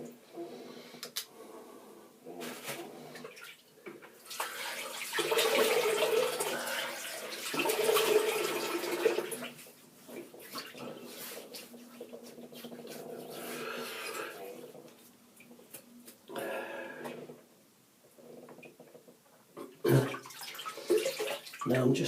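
Tap water runs and splashes at a bathroom sink while someone washes their face before a shave, with gentle rising and falling splashing over about twenty seconds and brief pauses between rinses.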